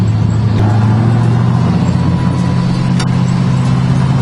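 A Mazda FC RX7 rotary engine held at high revs while drifting, a loud, constant close-up drone with a strong low rumble and no breaks, no voices.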